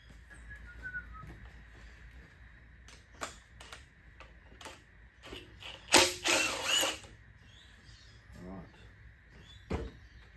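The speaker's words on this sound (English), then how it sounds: "We're just going to get this sump off, and hopefully the inside is cleaner than the outside" Ratchet clicking in short bursts while sump bolts come off a small-block Mopar V8 engine, brisk ticking runs with pauses, one louder clatter of metal midway, and soft background noise.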